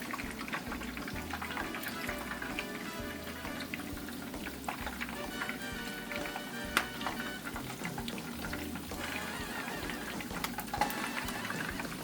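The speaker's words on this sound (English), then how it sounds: "And then we're just going to start frying them up." Meatballs fry in a pan with a steady, faint sizzle and crackle that runs without pause, with occasional soft clinks and scrapes from the pan.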